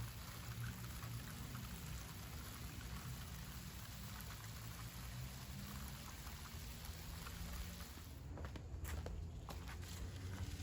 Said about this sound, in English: I'm gonna go get some water and water it in.